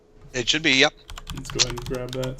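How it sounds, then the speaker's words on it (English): Rapid clicks of typing on a computer keyboard clatter in short bursts close to the microphone, mixed with someone talking. "Sorry for the typing noise."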